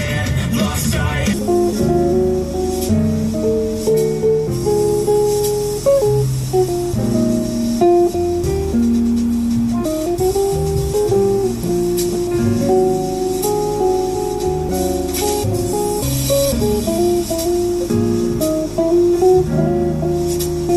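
Music with bass and melody plays continuously through a Klipsch Nashville Bluetooth speaker with dual 57 mm full-range drivers, loud and full from deep lows to highs, with no talking.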